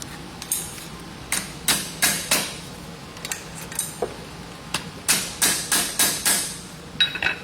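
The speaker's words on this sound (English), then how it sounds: "I like to tap my rivets in first" A hammer taps copper slating nails as rivets into a V pad on a horse's hoof, giving sharp, close knocks in irregular clusters of two to four with short pauses between.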